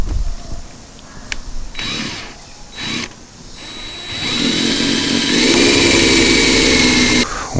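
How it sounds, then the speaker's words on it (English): A power drill with a bit bores through the corners of a rotten cargo trailer door, short whining bursts followed by a long, loud, steady grinding run, close up with no talk. "I'm going to go ahead and knock these corners off with the drill bit"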